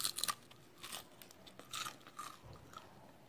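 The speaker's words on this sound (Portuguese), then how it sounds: "Vou morder para vocês verem como que ele ficou crocante." A bite into a crispy fried pastry stuffed with chicken pâté brings several close, sharp crunches, followed by quieter chewing crackles.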